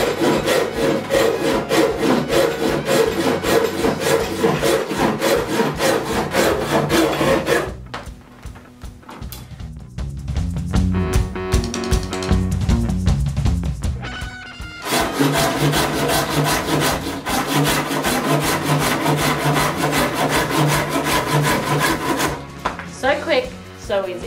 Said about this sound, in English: So this is the Zubat large tooth on a rock hard dead bit of wood.